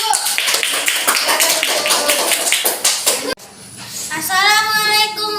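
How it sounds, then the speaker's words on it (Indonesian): Group applause from an audience in an Indonesian classroom presentation, a dense steady patter of clapping that stops abruptly, followed by a voice speaking. "tepuk tangan dulu."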